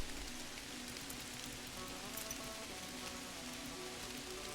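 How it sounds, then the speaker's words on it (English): Steady rain falls in the adventure game Kathy Rain, a soft even patter of drops that runs continuously and quietly with no talking. "It's raining now."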